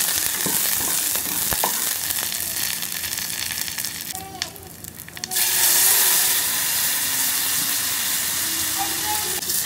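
Sambar powder mixed in hot water is poured into a simmering sambar curry. Steady sizzling and bubbling hiss runs throughout, with a brief splash and stir midway before the simmering continues, close and even, no voices.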